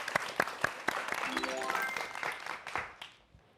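Audience applause for a university physics professor's lecture, a short burst of clapping with a voice speaking briefly over it, fading out after a few seconds.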